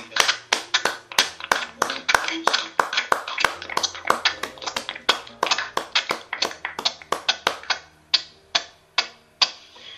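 Applause at an academic year closing ceremony for a Bible course, heard as rhythmic, evenly spaced claps in unison that are loud and close at first and then slow and space out toward the end.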